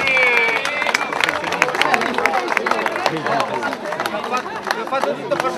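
Crowd at the finish of the Karatella Race 2012 claps and cheers for arriving runners, a busy wash of applause mixed with chatter and shouts, steady and close throughout.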